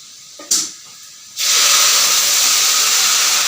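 Dal is poured into a hot pan and erupts into a loud, steady sizzle that holds without pause after a brief splash and hiss at the start.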